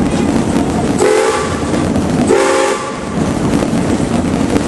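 Two long train whistle blasts, one after the other, over a steady rumbling train on the Silver Dollar City amusement park train ride.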